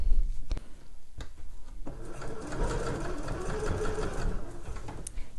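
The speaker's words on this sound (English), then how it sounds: "I'm just sewing both layers together through by attaching the seam allowances" A sewing machine runs steadily up close, stitching the sole of a homemade slipper boot to its outer layer, a continuous rapid mechanical whirr with a few clicks at the start.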